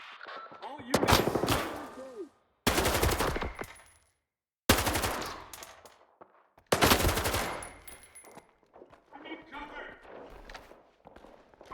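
Automatic machine gun fire in the video game STALKER 2, loud rapid bursts separated by short pauses, with footsteps and voices talking around the shooting.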